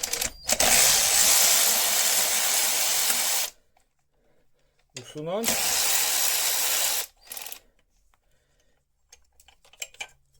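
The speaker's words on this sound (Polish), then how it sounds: "I teraz tą śrubę musimy poluzować, żeby zacisk podjechał nam do góry." Ratchet wrench loosening a rear brake caliper bolt on a Yamaha XTZ 660 Tenere: two long bursts of rapid, loud clicking ratcheting, separated by pauses and brief metallic handling noises, with a short third burst afterward.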